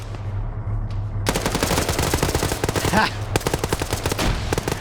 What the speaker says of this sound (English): all this dude is doing is just shooting at the chopper